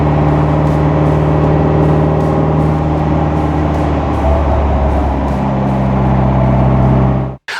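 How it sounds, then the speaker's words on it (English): A restored 1959 MGA Roadster with a 1500cc engine drives down the road, its exhaust droning steadily and loudly with gear-change shifts in pitch before cutting off abruptly at the end. "I told you this car is a lot of fun to drive"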